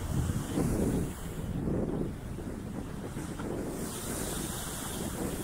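Choppy sea waves roll and surge at Scarborough's North Bay on a cold, very windy day, a loud rushing wash of surf mixed with heavy wind buffeting the microphone, no voices.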